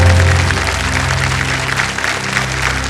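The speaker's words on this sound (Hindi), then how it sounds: "बहुत जोर से ताली बज रही है आपके लिए" A studio audience applauding on the Hindi game show Kaun Banega Crorepati, loud continuous clapping over a low musical drone that eases slightly toward the end.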